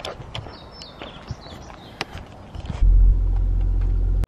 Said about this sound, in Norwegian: nå blir det egentlig bare å sette seg i bilen og hente Alex.